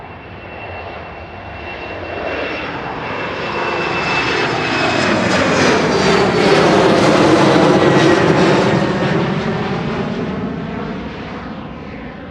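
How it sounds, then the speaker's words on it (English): A 21-year-old airliner arriving from London Heathrow touches down on runway 23 right at Manchester Airport, its engine roar swelling steadily and staying loud and close for the whole stretch, with no talk over it. "Shuttle 2 kilos just touched down on 23 right"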